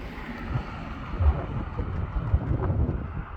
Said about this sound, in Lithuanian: turim belekokį vėją iš nugaros